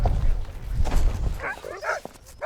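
Arctic sled dogs yip, whimper and bark in short overlapping bursts over low rumbling wind noise. They sound moderately near.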